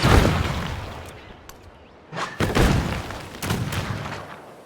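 Unit attacks in Civilization 7, a modern-age war turn: a loud booming volley at the start, then fading, followed by two more bursts of explosive fire around the middle and later, with no talk.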